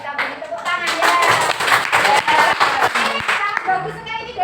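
A classroom group claps together for the first group's work: dense, steady hand clapping lasting several seconds, close and fairly loud, with voices mixed in.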